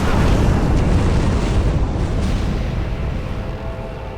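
A huge fire attack from a boss in Dark Souls Remastered erupts into a loud, continuous roaring blast that rumbles steadily and slowly fades over a few seconds.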